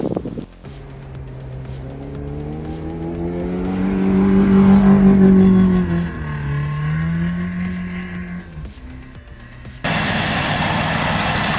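A Jeep plowing snow revs its engine hard. The growl climbs in pitch to a loud peak, then falls and levels off before cutting out, and a burst of hissing noise follows near the end.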